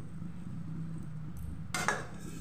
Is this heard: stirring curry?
yes